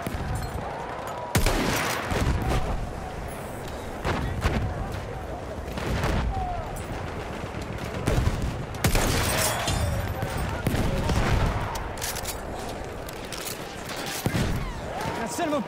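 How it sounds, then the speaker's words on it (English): Battlefield 1 combat brings loud, sustained bursts of machine gun fire with heavy booms and explosions hitting at intervals, and voices shout over the gunfire. "Machine Gun!"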